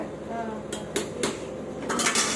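Metal kitchen vessel holding onion raita being handled, with a few bright clinks and clatters spaced irregularly, close by, over faint background talk.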